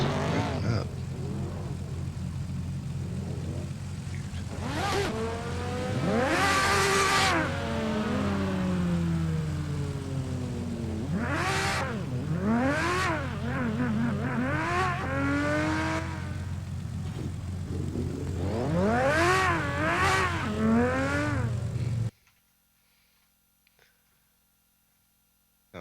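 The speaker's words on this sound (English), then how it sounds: "Why all of a sudden my tires just revving up?" Engine revving and tire noise from a drifting sim video game rise and fall in repeated sweeping waves over about twenty seconds, then cut abruptly to near silence.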